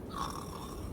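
A voice imitates the loud snoring of a napping character in a tabletop role-playing game, giving a single faint, rough, drawn-out snore about a second long.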